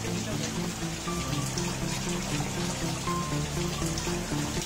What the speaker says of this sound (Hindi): और ऑल टाइम यहाँ बारिश होती रहती है